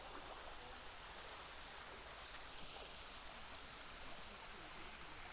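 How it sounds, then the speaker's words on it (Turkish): Water flows over the white travertine terraces of Pamukkale in small waterfalls, a soft, even, broadband rush that stays constant and faint throughout, with no voices. "Bu alanda iki tane küçük şelale gibi bir şey var."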